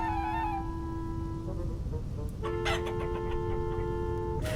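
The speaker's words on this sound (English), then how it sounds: "I had caught both a hen and a rooster." A hen and a rooster in the Vintage Story video game cluck and call in a series of tonal squawks, clear and close with no talking.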